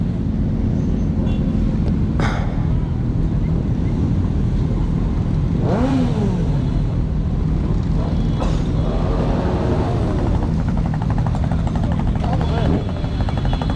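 Motorcycles at a biker rally protest in Clermont-Ferrand, a constant loud drone of engines with several revving bikes rising and falling in pitch as they pass nearby, amid crowd and traffic noise.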